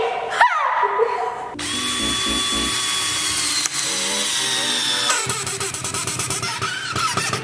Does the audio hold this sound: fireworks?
no